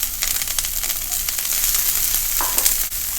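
Sliced onions sizzle loudly in hot oil in a pan that already held fried potatoes, an early step in cooking chicken afritada, a steady close crackle with faint stirring and scraping and no voices.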